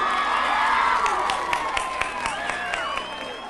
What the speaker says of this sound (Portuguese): bota um palmas pra galera de Najá